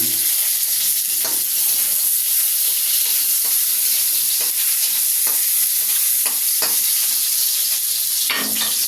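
Onions being stirred in a frying pan, a steady sizzle and hiss running throughout with repeated scraping strokes of the spoon, close and fairly loud with no talking.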